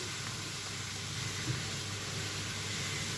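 Steady bubbling and hissing of pasta boiling in a pot of water, a constant close simmer with no voices.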